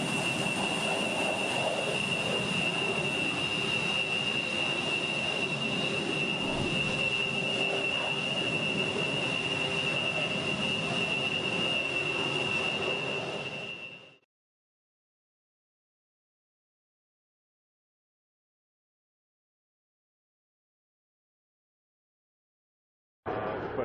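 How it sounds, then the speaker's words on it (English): An F-22 jet rolls toward the runway, giving a steady, loud whine and roar that holds for about fourteen seconds, then cuts to silence before briefly returning at the end. "Once the jet reaches the end of the runway, the demonstration begins."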